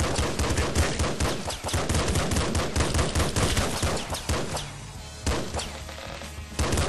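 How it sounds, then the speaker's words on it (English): Gunfire in the video game Nuclear Throne comes as rapid, dense volleys of sharp, punchy shots with explosive thumps. It is loud and nearly continuous, with a short lull before the firing picks up again. "This is not an auto gun, so you have to click it every time."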